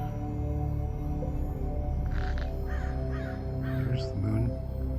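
Crows caw several times in a short sequence of harsh calls, over a steady low hum and faint background tones.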